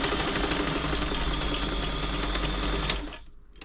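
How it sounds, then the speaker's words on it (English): A New Home 508 sewing machine stitches a long zigzag, a close, steady rapid mechanical chatter with a rhythmic hum that runs for about three seconds before abruptly stopping. "Next thing to do, a nice long zigzag."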